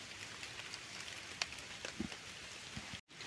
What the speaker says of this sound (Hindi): बहुत बारिश हो रही है भाई